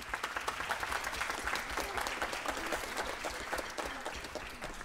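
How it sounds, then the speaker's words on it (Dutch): An audience at a neighbourhood music school concert applauds the conductor with dense, steady clapping that fills the room for several seconds before thinning slightly at the end. "Geeft u hem een hard applaus"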